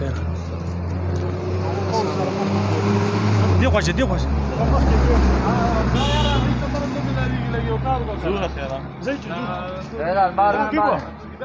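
A car pulls up to collect travellers on a tour road in Kalam Valley, Swat, its low engine rumble swelling close by and then idling while several people talk over it.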